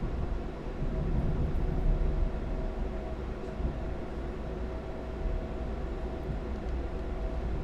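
A train rushing past in Train Sim World 3, a continuous dense low rumble and roar holding steady for several seconds without speech.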